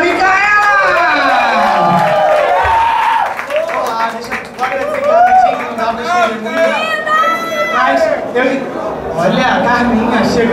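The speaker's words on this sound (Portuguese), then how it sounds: "Os aplausos para a Micaela!" Party guests at a nightclub celebration applaud and cheer for Micaela, loud crowd clapping and whoops mixed with shouting voices and lively chatter throughout.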